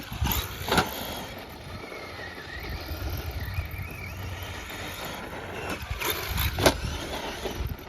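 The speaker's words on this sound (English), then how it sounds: "Got that famous chassis slap. Basically unavoidable with these trucks." A Traxxas RC truck drives nearby with a whining electric motor, rough ground noise and sharp chassis slap thuds around the start and end, continuous and fairly loud.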